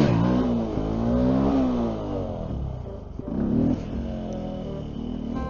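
Benelli TNT 125 motorcycle engine revving up and down in a steady loud drone, pitch rising and falling with throttle changes, recorded close on the bike while riding.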